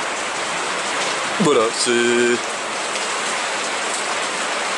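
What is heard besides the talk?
heavy rain falling outside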